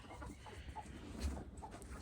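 Chickens roosting in a coop at night give soft, faint clucks and murmurs, scattered and low in volume, with no talking.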